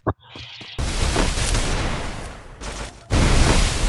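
Shotgun fire in the mobile game Free Fire comes as a short pop, then sustained loud bursts of gunfire that swell again near the end, with no talk over it.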